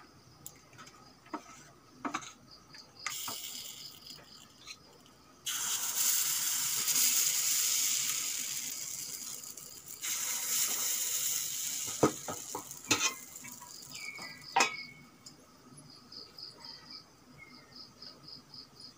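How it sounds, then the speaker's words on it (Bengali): Masala chitoi pitha frying in a pan, with sizzle swelling loud for long stretches between quieter gaps, scattered spatula clinks and scrapes, and faint crickets chirping in the background. "আবারও একইভাবে ভেজে নেব।"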